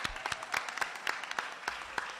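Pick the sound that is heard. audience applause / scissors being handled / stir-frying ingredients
audience applause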